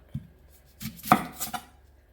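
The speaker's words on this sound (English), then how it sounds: "Let me just peel up the onions as well" Onions are peeled with a knife on a board, giving a few close, sharp taps and brief scraping rustles with quiet gaps between them.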